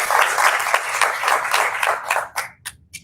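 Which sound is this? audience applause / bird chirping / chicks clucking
audience applause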